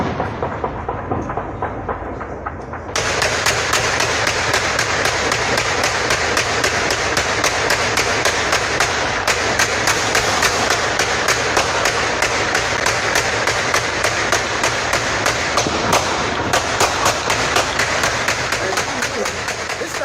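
Dense, continuous crackling bursts of what may be gunfire or fireworks at midnight on New Year's Eve in Shreveport, rapid and overlapping from near and far, building sharply after a quieter opening and sustained throughout.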